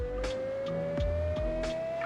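A Porsche Carrera GT engine in the Roblox Greenville driving game drones with a steady, slowly rising synthetic tone, punctuated by several quick clicks of manual gear shifts, close and alone.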